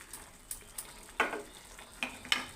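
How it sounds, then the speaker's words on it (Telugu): Curry leaves dropped into hot oil for a tempering sizzle and crackle in a frying pan, with quick spitting pops and bursts recurring every half second or so, close and unaccompanied by talk. "గరగలాడుతున్నాయి పోపులు అయిపోయినాయి. కరివేపాకు వేసుకున్నాం."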